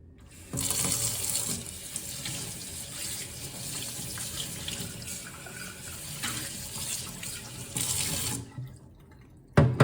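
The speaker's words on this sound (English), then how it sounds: "So I'm gonna take my mason jar and rinse it in hot water because it needs to be hot." Hot tap water runs steadily into a sink as a mason jar is rinsed before canning green beans, a continuous close splashing rush that stops near the end, leaving brief quiet and a small clatter.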